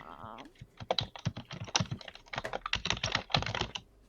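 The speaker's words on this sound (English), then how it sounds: "intense typing." Rapid, intense typing clatters on a computer keyboard, a dense, uneven burst of close keystrokes that keeps going with no pauses.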